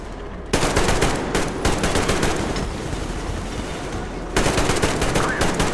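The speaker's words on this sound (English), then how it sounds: "Covering fire for the Colonel. No saving ammo." Sustained automatic gunfire laying down covering fire in Metro Exodus, dense rapid bursts from several weapons that pause briefly near the start and swell again loudly at the end.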